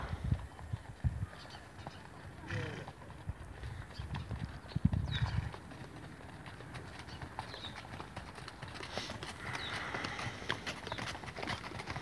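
Racehorses' hooves clip-clop steadily on the gallops at Lambourn in wintry weather, a continuous rhythmic drumming of several horses at moderate distance, with heavier thuds around a few moments and faint voices in the background.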